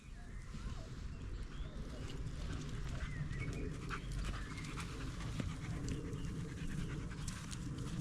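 Luna, a dog out on a walk, pants steadily in soft quick breaths over heavy outdoor wind and rumble, faint beneath the noise.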